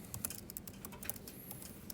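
Quick, soft keystrokes tap on a computer keyboard in an irregular burst, faint and close, with no talking over them.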